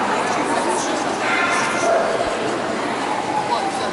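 Alabai dogs barking at a regional dog show, sharp yips and barks rising over a dense, steady crowd murmur with people chatting throughout.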